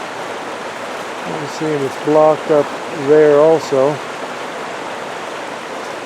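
A creek at Wolf Creek, running high after floods, keeps up a steady broadband rush of water throughout while someone talks over it in short bursts.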